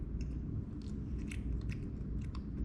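Someone chews a small bite of prosciutto close to the mic, with soft, wet, irregular mouth sounds and faint crunches over low background rumble, no talk.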